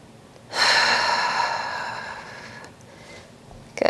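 A deep, forceful exhale through the mouth during a pelvic floor contraction in a pregnancy core workout, rising suddenly and loudly then tapering off over a few seconds, heard close and alone.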